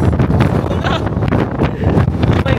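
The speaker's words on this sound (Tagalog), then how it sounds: "napakalakas ng hangin" Very strong wind at Taiwan Youth Woods buffets the microphone in a steady, loud roar with rustling gusts throughout.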